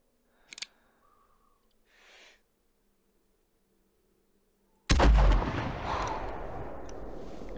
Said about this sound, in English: Might actually do a follow-up shot just so he doesn't run very far.